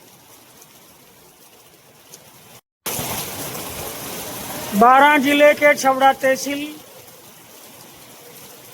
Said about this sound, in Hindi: आज 27 अक्टूबर को ये बारिश आप देख रहे हैं, खेतों में पानी ही पानी